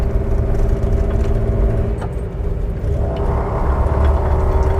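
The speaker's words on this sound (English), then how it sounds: "We have a nasty exhaust leak, so I'll get that figured out" Jeep with a swapped-in 4.6 engine and an exhaust leak, driving along, gives a loud, steady low rumble that stays constant throughout, with no talking.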